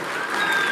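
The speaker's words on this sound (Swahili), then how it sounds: "Makofi kwa huyu mama." Audience at a scholarship launch event in Kenya clapping for someone speaker, brief steady applause under a second, moderately loud with no voices over it.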